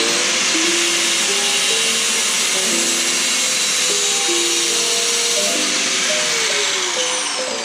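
An angle grinder cuts out a shelf while a custom Miata downpipe is being made. It gives a loud, sustained high whine that shifts pitch as the disc bites into the metal, with no voices.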